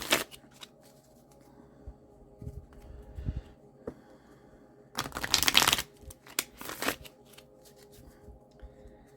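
Cards riffled and shuffled close by, soft flutters and taps with a louder burst of rapid riffling midway, against a quiet room hum.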